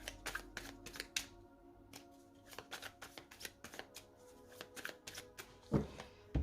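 A deck of oracle cards is cut and shuffled by hand, giving close, crisp riffling and flicking bursts in an uneven rhythm, with a slightly louder shuffle near the end.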